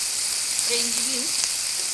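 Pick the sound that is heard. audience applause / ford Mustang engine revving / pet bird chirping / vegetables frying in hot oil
vegetables frying in hot oil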